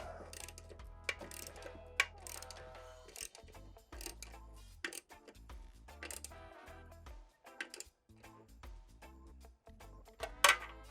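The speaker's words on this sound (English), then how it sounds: "Get my wrench on the nut." Quiet clicks of a ratchet wrench working a nut on a Harley Sportster motorcycle come in short, irregular bursts with gaps between, plus a few louder metallic knocks near the end.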